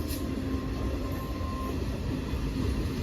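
A Masagram–Bankura MEMU passenger train rumbles into the platform close by, a steady heavy roar with a faint whine and occasional metallic squeal, continuous and loud.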